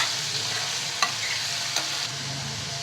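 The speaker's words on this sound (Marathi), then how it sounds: "कांदा छान आपण परतून घेणार आहोत" Chopped onion sautés in oil with mustard seeds, asafoetida and turmeric, giving a steady close sizzle with a couple of sharp stirring clicks from the pan, no voices.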